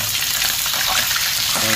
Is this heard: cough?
no